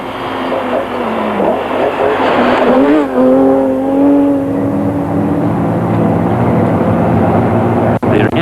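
A Nissan rally car racing flat out on a stage of the 1987 Castrol International Rally, its engine a loud continuous roar with rising and falling pitch as it shifts, close and unbroken throughout.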